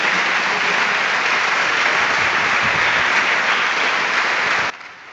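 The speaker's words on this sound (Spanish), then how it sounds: "dar un aplauso al Señor" A church congregation applauds the Lord with loud, dense, sustained clapping that fills the space. The applause stops abruptly near the end.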